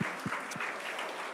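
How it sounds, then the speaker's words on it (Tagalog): A church congregation at a Sunday worship service gives a brief burst of applause, a dense wash of clapping at moderate distance that fades slightly over the short span. "yung the best na palakpak po sa Panginoon"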